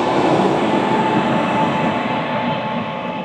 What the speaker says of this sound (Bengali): আমাদের ট্রেন ছেড়ে দিল পণ্ডিত দীনদয়াল উপাধ্যায় জংশন।